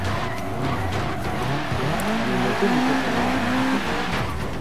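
A car drifts with a sustained tire squeal over a steady engine roar in the Forza Horizon 3 video game, the squeal wavering in pitch, continuous and loud throughout with no talk.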